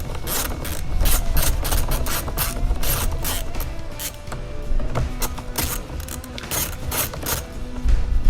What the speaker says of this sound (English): take off the ground 10mm nut